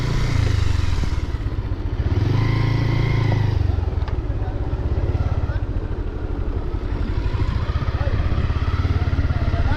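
Steady, loud motorcycle engine drone and rushing wind while riding around Saint Martin island, a continuous close rumble through the whole stretch. A voice is faintly mixed in.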